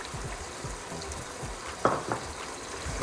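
Mapo tofu sauce with chili powder bubbling and reducing in a pan, a steady low sizzle with soft pops and a couple of brief louder splutters near the middle, close and fairly quiet.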